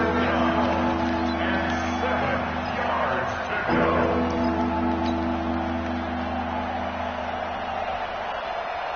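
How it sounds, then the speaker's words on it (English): Steady crowd roar from a video game American football match, swelling as a big third down approaches, a constant dense wash of cheering and murmur holding at an even level throughout. "the crowd getting into it as we come up on a big 3rd down"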